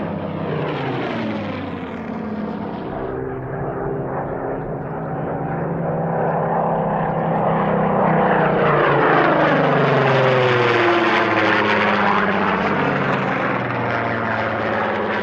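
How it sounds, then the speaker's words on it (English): A high-back Supermarine Spitfire Mark 14 flies at the 1996 Duxford airshow, its loud piston engine and propeller drone sweeping in pitch as it passes close by, growing louder toward the end. "TFC's second Mark 14 is a high-back version and is in the markings of Squadron Leader Ja"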